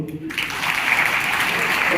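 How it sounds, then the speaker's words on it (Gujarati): An audience claps at a Kutch district Prajapati community Saraswati honour ceremony. The dense, even applause rises after a brief pause and continues steadily. "એ એકસો ને તાળીઓ"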